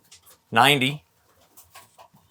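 Pigeons in a loft where baby birds wait to be banded; one loud, brief coo-like call rises over quieter rustling and soft murmuring voices nearby.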